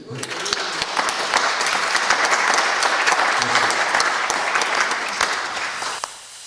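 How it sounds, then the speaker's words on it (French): A church congregation at Mass applauds the team, a steady, dense wash of many hands clapping that swells and holds for several seconds before tapering off near the end. "On peut-tu les applaudir?"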